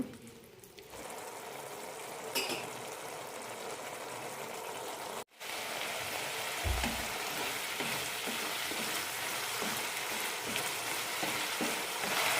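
Okra masala cooking in a pan, a low continuous sizzle and bubbling with occasional stirring scrapes, briefly cut off once partway through, then resuming.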